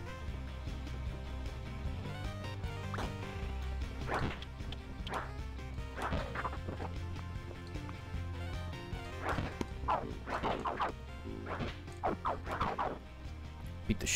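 Dog barking and attacking zombies in Death Road to Canada, short yips and thwacks scattered over continuous busy game music and noise.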